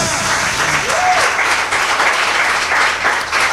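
A church congregation applauds loudly and continuously, dense clapping filling the whole stretch, with a voice briefly audible underneath.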